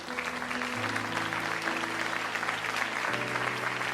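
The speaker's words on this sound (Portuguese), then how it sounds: "Quantos podem aplaudir ao Senhor por esta palavra?" A church congregation applauding during a Pentecostal worship service, a continuous, even wash of clapping heard from a distance beneath sustained organ or keyboard tones that shift pitch.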